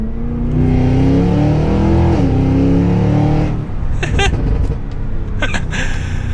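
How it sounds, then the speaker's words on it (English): 2023 Cadillac Escalade V 4WD accelerating hard from second gear, heard from inside the cabin: a deep rising engine roar with an upshift, then it eases off into a few faint knocks and rustles. "Let's do one last acceleration here from second."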